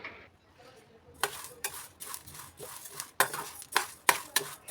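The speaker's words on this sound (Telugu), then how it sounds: "కలుపుకుంటూ లో ఫ్లేమ్లో పెట్టుకొని మంచిగా వేసుకోవాలి" Sunnunda ingredients are stirred while roasting in a pan on a low flame, with a series of soft scraping strokes in an irregular rhythm, close and fairly quiet with no talking.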